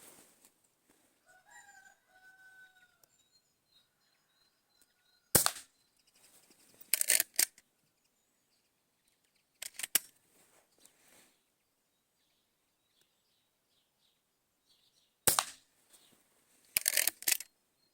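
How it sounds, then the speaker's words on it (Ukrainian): Five sharp shots from an IZH-53M air rifle firing Shershen pellets ring out at irregular intervals, a couple followed by quick echoes, with a rooster crowing faintly in the background at the start. "Далі стріляємо на купність з такими же самими умовами."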